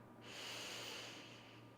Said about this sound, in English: I am breathing in.